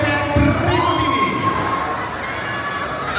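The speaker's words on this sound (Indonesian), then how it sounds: "Beri tepuk tangan yang meriah dan paling meriah untuk ketiga cast berikut ini." An audience at a gala premiere for the series Bunga Di Tepi Jurang cheers for the cast, with a dense wash of crowd noise and excited shouting that carries steadily throughout.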